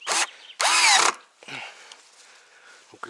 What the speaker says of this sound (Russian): Укрепляем саморезами